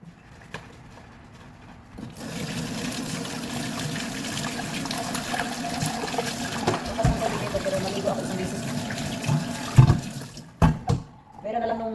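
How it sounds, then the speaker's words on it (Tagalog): Strong water gushes steadily from a household tap for about eight seconds, a broad rushing hiss with clanks and knocks near the end, and talk faintly underneath. "Dito sa village namin, malakas talaga yung tubig dito guys."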